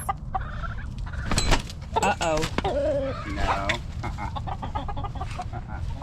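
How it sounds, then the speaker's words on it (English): Hens in a hen house cluck and squawk at an intruding rooster in a close, agitated burst of calls, with a person briefly speaking over them. "the hens are not appreciating having a rooster in their hen house"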